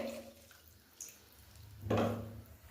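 Water is poured into a garlic paste mixture in a pan for lasooni methi, giving one brief splash and pour about two-thirds through after a quiet, faintly dripping start. No one speaks.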